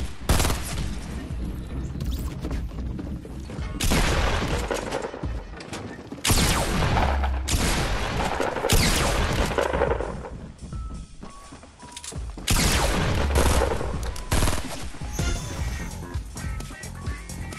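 Loud bursts of automatic gunfire in Fortnite Battle Royale, several rapid volleys separated by brief gaps, dense and close throughout with no talking.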